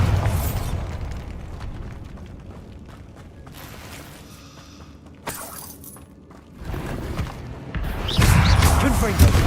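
Bombarda spell explosion in the video game Hogwarts Legacy: a loud, sharp burst with shattering debris that decays, followed by further booming impacts, with game effects and a voice in between.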